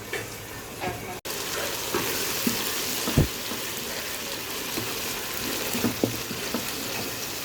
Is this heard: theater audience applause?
no